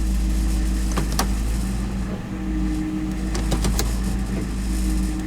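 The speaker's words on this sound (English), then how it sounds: "Yeah, a little bit of noise when it goes into gear." A used police car transmission clunking into gear over a steady low engine drone, with a few brief sharp knocks and rattles, close by and with no one talking.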